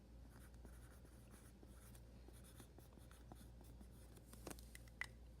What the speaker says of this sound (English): We're simply going to write language arts on top of this folder.